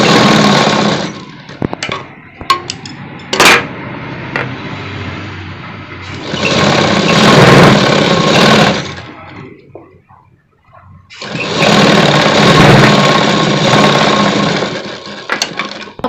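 A sewing machine stitches a collar night suit in two long, loud, steady whirring runs, with short clicks and handling noises before them and a brief quiet gap between the runs.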